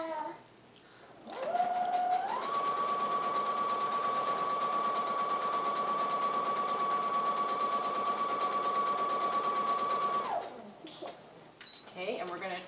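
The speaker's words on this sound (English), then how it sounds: "We're going to sew across that marked line, right on the line." A sewing machine stitches quilt fabric along a marked line, a steady close whirring hum with a constant pitched whine that speeds up briefly at the start and runs evenly for several seconds before stopping, with light handling noise around it.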